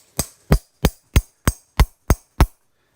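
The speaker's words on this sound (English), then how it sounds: "we're gonna take our hammering piece, like our little setting piece here" Eight sharp, evenly spaced hammer strikes on a metal eyelet setting tool, loud and close, each a crisp knock followed by silence.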